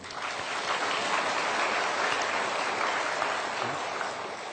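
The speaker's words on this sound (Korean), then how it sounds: "한번 박수 한번 해줘요. 박수." A church congregation applauds during a Sunday sermon, a dense, steady wash of clapping from many hands that holds evenly for several seconds without a break.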